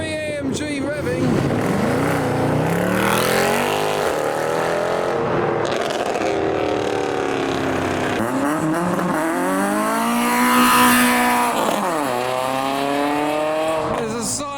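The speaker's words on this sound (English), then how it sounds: "And a C63 AMG revving." A Mercedes C63 AMG revs at a night car meet, its engine note climbing and falling repeatedly over a steady loud rumble of other cars, with people talking nearby.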